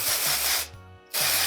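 Texturizing spray hisses from an aerosol can onto lifted sections of hair in two bursts, a close, loud spray with a short pause between.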